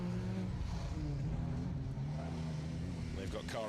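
A Toyota Yaris rally car drives through a stage of the SMC Stages Rally, its engine droning and revving close by, with commentary talk over it.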